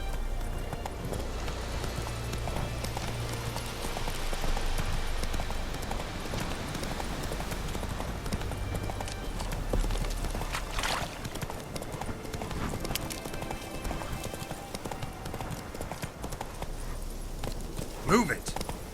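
Hooves of a horse called Roach clip-clop steadily at a fast pace across the ground, with a voice urging the horse on and other game sounds around.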